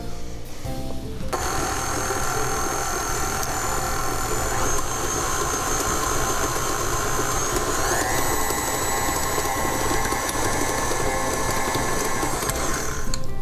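An electric mixer blends a teaspoon of vanilla into chocolate mousse cake batter, with a steady, loud mechanical whir and rattle running continuously from start to finish, with no talking.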